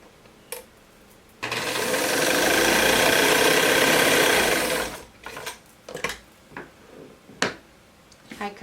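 Sewing machine stitching the front of a summer dress, a steady loud mechanical whir running for about three and a half seconds, framed by quieter handling clicks and thumps of fabric before and after.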